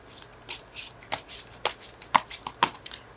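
A tarot card is drawn and handled from a deck, giving several brief, crisp card snaps and flicks spread unevenly over a few seconds, fairly close and quiet, with no talking.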